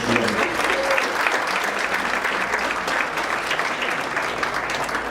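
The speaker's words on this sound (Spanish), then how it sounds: "con un fuerte aplauso, le damos la bienvenida" Audience at a human rights panel discussion applauding to welcome a speaker, steady dense clapping from a large crowd filling the whole stretch without a break.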